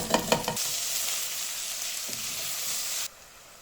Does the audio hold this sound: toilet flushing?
no